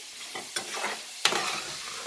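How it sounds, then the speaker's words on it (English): Spicy sausage browning in a frying pan as a spoonful of seasoning is stirred through, with a few distinct scraping strokes of the utensil over a soft, steady sizzle, close up and with no voices. "I'm gonna go ahead and stir that up a little bit"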